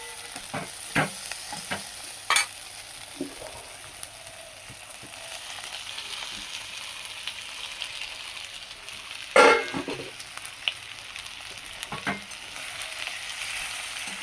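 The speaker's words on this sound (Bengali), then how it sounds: "মাছের তেলটা ভেজে নিয়েছি, এবার বেগুনটা দিয়ে দেবো।" Eggplant frying in fish oil in a pan, a steady soft sizzle with occasional scraping stir strokes, and a faint car horn sounding in the distance.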